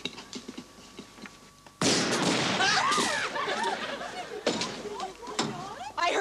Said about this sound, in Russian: Я слышала выстрел.